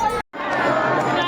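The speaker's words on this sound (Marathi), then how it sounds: "तर मित्रांनो हे बघ गर्दी बघू शकता कशी" A dense crowd of pilgrims at the Pandharpur temple murmurs and chatters in a continuous babble, briefly cut out near the start.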